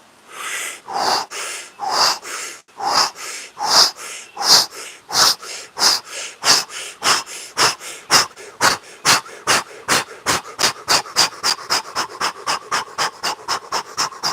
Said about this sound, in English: all the way in and all the way out as fast as you can go in a panting style breath